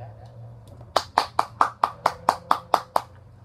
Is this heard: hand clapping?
yes